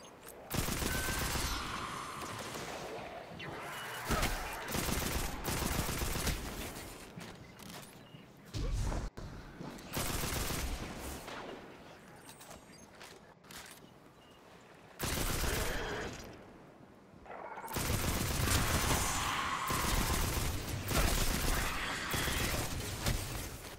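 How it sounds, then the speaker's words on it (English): Bursts of gunfire and explosions from a Destiny 2 firefight against Fallen enemies with sniper rifles, loud dense volleys that come and go in waves with short lulls between them. "I'm underestimating the power of their sniper rifles."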